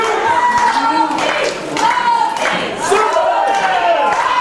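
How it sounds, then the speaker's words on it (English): A wrestling crowd at a PWU live pro wrestling event roars and cheers for Lucky 13, with loud, sustained yelling that swells and dips in waves, and thuds and scattered clapping mixed in. "Crowd coming alive here for Lucky 13."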